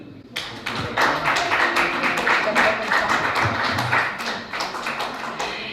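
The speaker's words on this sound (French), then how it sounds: "Je vous propose d'applaudir d'abord Cathy pour la rédaction du quiz." Applause from a banquet audience honouring the quiz writer, a dense run of many hands clapping that starts abruptly and holds steady, fairly close and loud, with a few voices mixed in.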